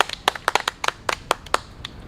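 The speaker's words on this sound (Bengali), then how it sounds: "রিয়ামণির জন্য সবাই জোরে সোরে একটা হাত তালি" A small group claps for the winner of a song-lyrics game, a short burst of sharp, uneven hand claps close by, alone with no talk.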